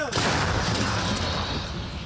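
A single loud artillery cannon blast booms out at the start, followed by a long rolling echo that fades over the next two seconds.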